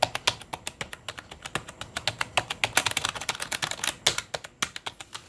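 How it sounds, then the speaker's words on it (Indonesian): Rapid typing on an NYK KR 301 membrane RGB keyboard, a dense, steady stream of close, crisp key taps with no talking. "kalau misalkan kita ngetik kayak gini"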